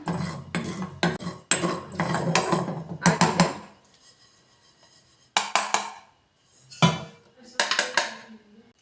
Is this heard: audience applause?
no